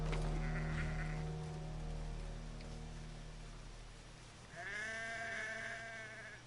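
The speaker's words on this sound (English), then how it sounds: "I'm gonna pet the sheep." A sheep in the video game Shadow Creed 3 bleats twice, once at the start and again more loudly near the end, over a quiet background.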